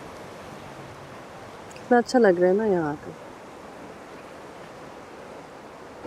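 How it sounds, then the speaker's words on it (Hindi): Ocean waves wash onto a shore in a soft, continuous hiss and rumble, with someone speaking briefly partway through over the steady surf. "ये सुकून, ये लहरों की आवाजें"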